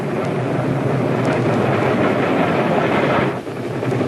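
A freight train runs fast along the rails with a loud, dense, continuous roar and rattle, dipping briefly near the end before surging back.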